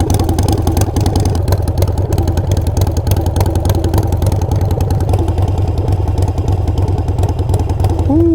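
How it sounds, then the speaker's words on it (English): A Harley-Davidson Sportster 48 with Kinetic 540 Laterals exhaust runs close and loud, its deep, lumpy idle pulsing steadily with a slight clatter before a brief rev at the end. "it's a loud exhaust"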